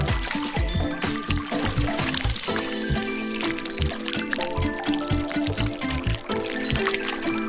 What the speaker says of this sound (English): Now pour some melted wax over it in different colors.